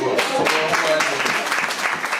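An audience at a talk on national cohesion breaks into brief, dense clapping that holds steady for about two seconds, with a voice faintly mixed in.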